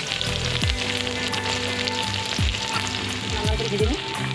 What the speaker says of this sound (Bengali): ফোড়ন দিচ্ছি পেঁয়াজ ফোড়ন দিচ্ছি